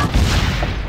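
A cannon going off in Assassin's Creed Brotherhood, one loud, heavy boom with a deep rumbling body that fills the short moment without any pause.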